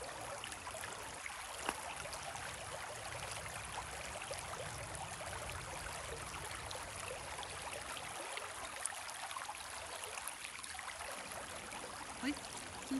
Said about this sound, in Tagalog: Ang ganda pakinggan yung daloy ng tubig.